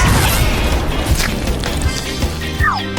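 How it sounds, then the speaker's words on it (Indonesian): A chocolate fountain bursts during an escape-room prank challenge, a loud, sustained crashing and splattering burst with heavy thuds throughout. "Ini akan meledak."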